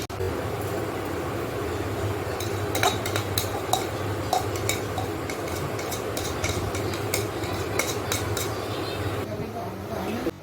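Patoli filling being stirred in a bowl with ginger-chilli paste, a steady scraping and clinking of spoon against the dish repeating through the whole stretch over a low background hum, with voices now and then.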